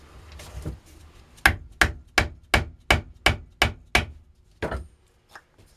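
A spolette time fuse for a 3-inch cylinder shell is rammed full of fuse composition with a mallet, heard as a rapid series of about eight sharp, evenly spaced close thwacks, then a couple of slower, softer knocks.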